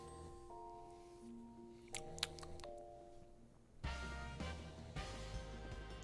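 Bright bell-like chime tones ring out among layered synthesized game music and ambience in Final Fantasy XIV, with a few sharp chiming hits midway before the music swells louder.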